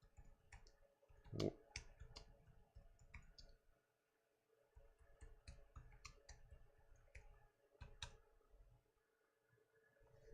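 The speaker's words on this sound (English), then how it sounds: "I'm just going to type a real quick message." Someone types a quick message on a computer keyboard, sounding as faint, irregular clicks and taps in short bursts with brief pauses, quiet and close.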